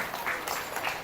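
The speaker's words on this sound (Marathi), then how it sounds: "वाजवा टाळ्या, वाजवा स्वतःसाठी" Kirtan audience in a Kurla, Mumbai gathering claps softly for about a second, a faint, distant patter of hands.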